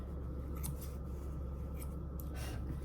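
Scissors trimming a Yorkie's fur in a van, several quick soft snips over a steady low hum, faint and close.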